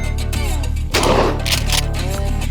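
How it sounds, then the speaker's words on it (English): A .308 rifle fires one loud, sharp shot at a shooting range, its blast cutting through nearby voices that talk before and after. "Zeroing a 308 at fucking 20 yards should be a fucking crime."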